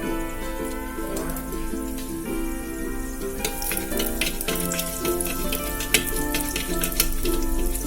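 Mustard seeds, with a little fenugreek and cumin, splutter in hot oil in a continuous dense crackle of rapid pops, close and fairly loud, with a steady sizzle underneath.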